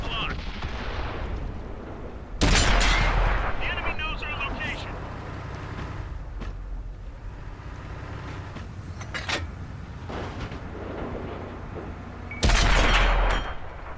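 Heavy tank shell strikes a turret in the World of Tanks console game, a sudden loud boom with metallic ring, followed later by another big blast amid rumbling engine and gunfire, with talk over the action.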